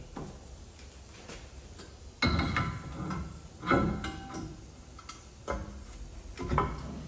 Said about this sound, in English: I'm smacking this a few times to get it seated